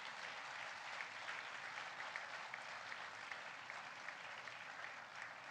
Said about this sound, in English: a huge round of applause for these very special people